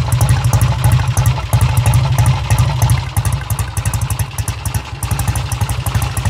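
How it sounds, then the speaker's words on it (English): A 1968 Triumph TR6R Tiger 650 motorcycle engine idles and rumbles up close, a loud steady low throb of rapid pulsing firing beats with slight variations in pace, no voices. "Listen to this thing rumble. That's what a motorcycle is supposed to sound like."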